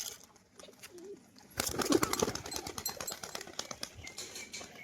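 Two tumbler pigeons are released and take flight with a sudden burst of close, rapid wing flapping. The flapping continues in fluttering beats as they move off, after a quiet start.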